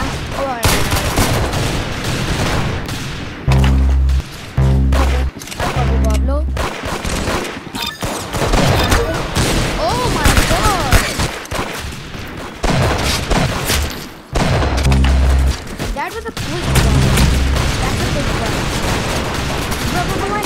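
Rapid bursts of gunfire from a new gun in Roblox Arsenal, loud and continuous with heavy booming blasts and quick fusillades running throughout.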